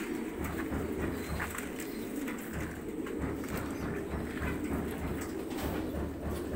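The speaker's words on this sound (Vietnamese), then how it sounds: "đây là lứa chim 3 tháng tuổi này" Three-month-old pigeons at a pigeon farm coo steadily, with a continuous low murmur of many birds close by and no talk over them.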